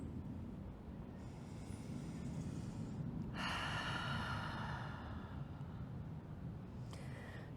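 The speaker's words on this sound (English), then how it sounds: "Just a couple breaths here." Slow, deep breaths during an evening yoga flow for surfers: two long airy swells in succession, the second louder, then a shorter breath near the end, all close and quiet with no talking.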